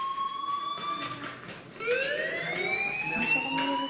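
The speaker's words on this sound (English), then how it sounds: "Hey, do you hear that fire alarm? That means you should be outside." A school fire alarm in the video game Life is Strange sounds as a steady electronic tone that rises and holds, loud and continuous throughout.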